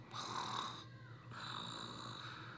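A woman imitates loud snoring with her voice, one long rasping inhale followed by a second drawn-out snore, close and alone.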